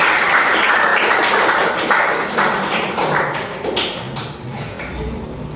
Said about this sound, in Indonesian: Tepuk tangan untuk teman kita berdua